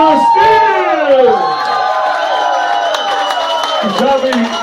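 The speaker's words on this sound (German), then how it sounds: "Applaus für Oberstil!" A party crowd at a pub in Köln-Dellbrück breaks into loud, sustained cheering, whooping and shouting, with voices rising and falling close by for several seconds.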